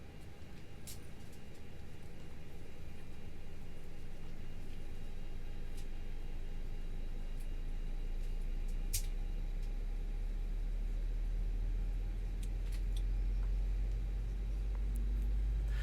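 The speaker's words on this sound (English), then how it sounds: "We're starting engine 1." IAE engine start on a FlightFactor A320 in X-Plane: a steady broadband whoosh of air under a low rumble that deepens and strengthens partway through as the engine spools up, with faint clicks scattered on top.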